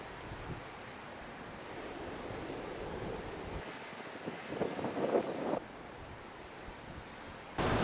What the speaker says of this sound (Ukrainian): Зараз е, трохи вітер